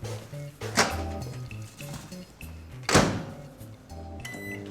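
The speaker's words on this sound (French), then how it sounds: "Je vais les faire cuire 5 minutes en les posant tout simplement sur le plateau du micro-ondes." Potatoes set on the turntable of a microwave oven, followed by two solid thunks as the door is handled and shut, over a steady appliance hum.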